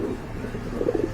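Pigeons for sale, a football-square-sized pair, coo softly in a low, murmuring rhythm against steady background hum, growing a little stronger toward the end of the short stretch.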